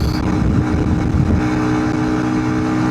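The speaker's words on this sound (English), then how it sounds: "I just gave it full throttle." A big-bore Honda CRF300L rally motorcycle at full throttle climbing a hill, a loud, close, continuous engine roar with a steady buzzy drone and wind rush.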